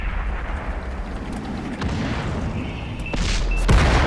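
Artillery fire in the World of Tanks video game: a dense, rumbling battle din with deep booms throughout, growing louder toward the end, where a sharp blast hits near the close.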